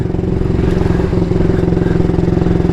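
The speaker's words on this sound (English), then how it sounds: "Oud Bill is a 1938 AJS Model 22 250cc" A 1938 AJS Model 22 250cc single-cylinder motorcycle running on the road, a loud, close, steady pulsing engine throb with a slightly rough, clattery edge, alone with no talk.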